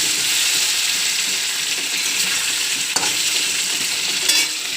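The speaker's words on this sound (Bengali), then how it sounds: "তা আলু ছোটো ছোটো করে কেটে ভাজা করে নেবো" Small-cut potato pieces fry in hot oil in a pan at home, a steady dense sizzle with occasional scraping stirs and clinks of the spatula, close and continuous with no talking.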